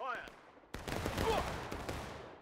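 A massed musket volley fires on command in the Civil War game War of Rights, a sharp broadband crack followed by a rolling, sustained roar of overlapping shots; brief voice tones come just before the blast.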